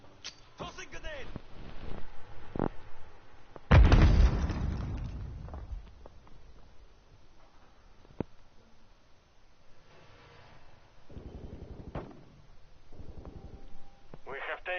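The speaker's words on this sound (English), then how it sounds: "Tossing grenade." A grenade goes off in a multiplayer shooter game: one sharp, loud blast with a rumbling tail, surrounded by quieter gunfire pops and game announcer voices talking.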